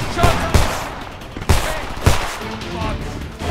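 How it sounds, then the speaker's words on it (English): Pistol fire in the video game Homefront, several loud sharp shots spaced irregularly over heavy game background noise, with a voice speaking underneath. "I'm gonna kill you all with a pistol."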